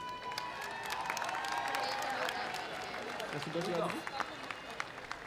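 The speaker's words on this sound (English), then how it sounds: "A round of applause from the graduates to their families and friends" A large crowd applauds steadily for several seconds at a high school graduation ceremony, with a voice speaking over the clapping.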